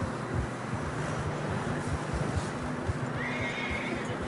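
A horse in the snowy mountains of Red Dead Redemption 2 whinnies and plods along, its neighs and hoof sounds fairly faint beneath a constant windy rush.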